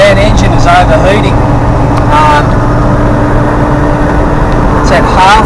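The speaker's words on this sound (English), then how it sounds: "My van engine is overheating." Loud, steady rumble of an overheating van engine running nearby, a constant low drone throughout, with someone talking over it at intervals.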